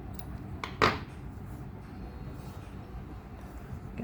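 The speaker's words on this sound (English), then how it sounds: "chain 1 and cut the yarn" A single quick snip of scissors cutting crochet yarn, brief and close over a faint room hum.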